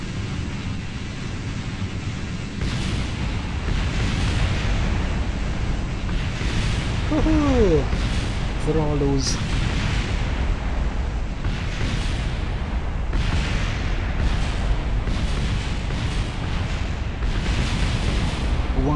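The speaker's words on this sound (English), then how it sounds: "we are going to make some explosions, I hope, with these engines right now." Rocket engines burst into a run of rumbling explosions in Kerbal Space Program, with dense, continuous roaring blasts and a man briefly cheering partway through.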